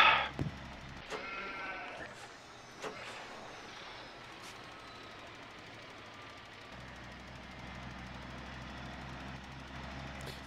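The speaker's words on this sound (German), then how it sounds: "Die Schafe haben Hunger?" Sheep bleat a few times in the farming video game Landwirtschafts Simulator 2015, short calls rising over a steady low machinery-like hum with no talking.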